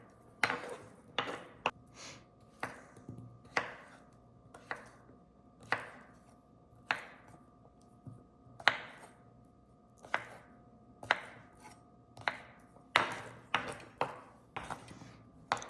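Knife chopping potatoes on a cutting board, a steady series of sharp, close thuds spaced about every half second to second, with no talking.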